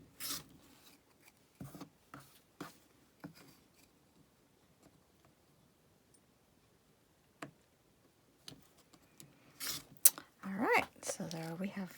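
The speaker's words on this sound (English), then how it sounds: "And then we're just going to cut our strips." Fabric strips being cut for a quilt block, heard as scattered short scraping and rasping strokes with quiet gaps, then a denser burst of cutting near the end, close and with no talk.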